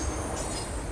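A train runs along railway tracks close by, a loud continuous rumble and roar with a faint high wheel squeal, steady for the whole second.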